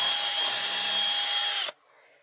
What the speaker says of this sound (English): I know how far to drill in, and we're just going to go in and out a couple of times